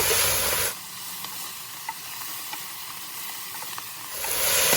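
Fresh spinach sizzles and hisses in a hot pan over lowered heat while a utensil stirs it, with soft scraping clicks over steady frying, fairly close.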